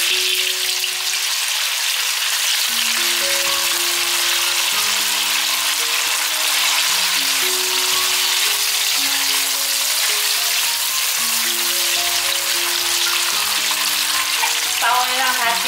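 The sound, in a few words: dried tofu frying in hot oil in a wok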